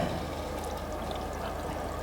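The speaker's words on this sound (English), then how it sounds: "I will turn the water on." Tap water runs steadily into a condenser in a chemistry lab, making an even, continuous pouring rush with no breaks and no talking.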